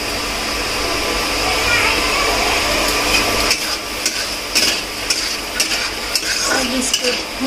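Kashmiri red chili powder and vegetable masala are being stirred and fried in a pan on a home stove: a steady sizzle with a spoon scraping and clinking against the pot, over a constant background hum.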